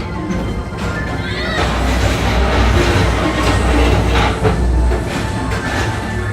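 A Tomorrowland PeopleMover ride train rolls along its track at Walt Disney World, giving a steady, close rumble and whir that carries through the whole stretch without pause.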